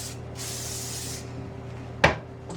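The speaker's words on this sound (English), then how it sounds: "we're going to give it one last zhuzh of hairspray" A steady hiss of hairspray misted over styled hair, two bursts in a row, followed by a single sharp knock like a cupboard or can being set down.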